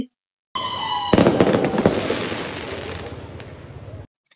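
Fireworks crackle and burst at a Chand Raat celebration in Kuala Lumpur, Malaysia: a dense, loud run of rapid pops and bangs that starts suddenly and continues steadily for several seconds before cutting off.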